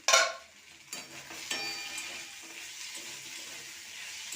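Potato and eggplant pieces fry in a pan. A sharp clatter of a lid or spoon comes first, then a quiet, steady sizzle with a few soft stirring knocks. No voices.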